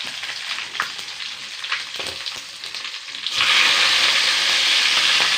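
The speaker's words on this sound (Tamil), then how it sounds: "இது எல்லாத்தையும் நல்லா வதக்கிக்கலாம்" Fennel, garlic and green chillies sautéing in a pan, a moderate crackle with stirring taps at first, then a sudden louder, steady hiss of frying that carries on to the end, heard close with no talk.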